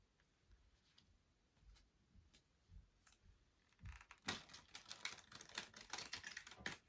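Faint tapping at first, then a rapid rush of crisp, riffling card flicks as a deck is shuffled close by.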